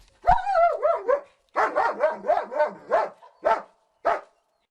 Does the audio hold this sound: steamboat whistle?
no